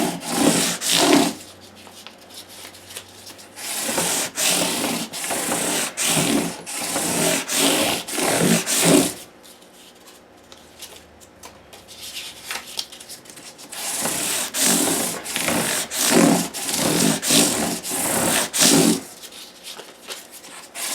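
Guitar frets on an acoustic Gibson J-45 or J-15 are sanded with 600 grit sandpaper stacked on a block, giving close, rhythmic back-and-forth rubbing strokes in two long bursts separated by a quiet pause.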